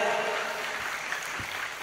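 Audience applause at a humorous Islamic preaching event fills the clip as steady broadband clapping, fairly even and moderately loud throughout.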